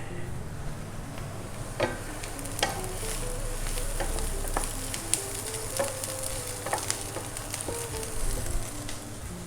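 Onions frying in a pan give a close, steady sizzle, dotted with sharp crackles and the occasional click of stirring. No one speaks.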